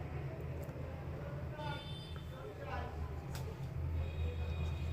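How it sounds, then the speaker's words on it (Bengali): A train rumbles past at night before dawn, a steady low drone with a few faint high squeals, while people talk quietly nearby. "আর কিছুক্ষণের মধ্যেই একটা ট্রেন আসবে।"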